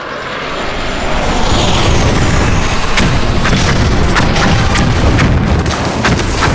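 A Phantom jet roars overhead in the Vietnam War video game Men of War: Vietnam, a loud sustained engine rumble building in and holding steady, with sharp cracks and booms punctuating the second half.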